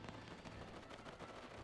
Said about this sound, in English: Currently the machine guns are firing.